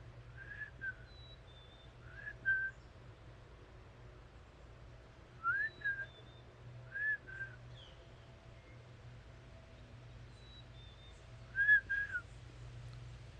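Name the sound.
whistled bird call imitation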